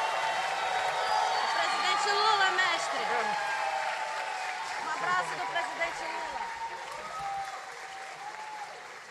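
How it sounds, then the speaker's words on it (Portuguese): Sustained audience applause at a political rally with Paraense culture performers, many hands clapping loudly with scattered whoops and cheers, voices and speech carrying over the crowd as it gradually fades. "Muitas e muitas palmas para o mestre Damasceno."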